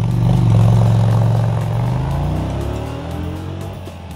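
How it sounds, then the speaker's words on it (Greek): A motorcycle's exhaust gives a deep, muffled, otherworldly engine note that swells early and then settles into a steady drone, loud and close, with no talking. "την εξάτμιση με τον υπόκοφο, εξώκοσμο, χαρακτηριστικό ήχο της"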